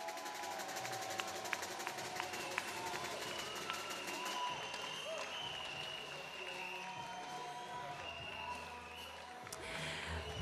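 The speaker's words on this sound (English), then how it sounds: "please give a big round of applause to Feng Tianwei." Audience applause in an arena as a women's table tennis championship final is introduced, a broad, steady wash of clapping and crowd noise lasting throughout at moderate distance.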